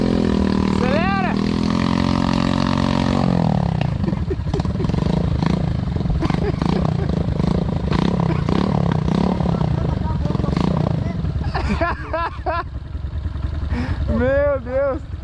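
A motorcycle engine revs and accelerates on a wet road in the rain, a loud rough roar with rising pitch sweeps, while people talk and exclaim over it.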